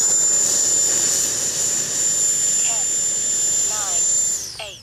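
A 90mm electric ducted-fan jet, an E-flite Viper RC model, holds a loud steady high whine outdoors that cuts off and winds down near the end.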